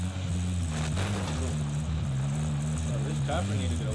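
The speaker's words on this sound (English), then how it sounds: "Chopper need to get away from us" A helicopter passes overhead in the Call of Duty Warzone video game, its engine and rotor making a steady low droning hum that runs throughout, with players talking over it.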